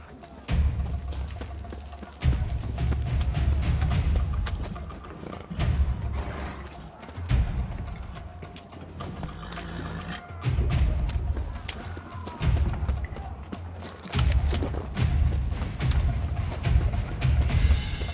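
Horses gallop in The Witcher 3 video game, heavy repeated hoofbeat thumps in bursts under game music and sound effects.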